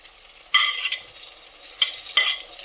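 Cumin, mustard seeds and finely chopped onion frying in oil, with a soft steady sizzle broken by a few quick stirring scrapes and crackles, close and fairly quiet.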